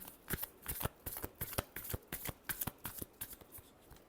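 A deck of tarot cards being shuffled by hand, a close run of quick papery riffles and slaps in an even, rapid rhythm with no talking.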